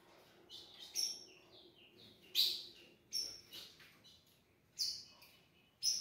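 Ultramarine grosbeak chicks chirp at a feeding trough while eating, giving about six short, high, fairly close calls spaced irregularly apart, with no talk.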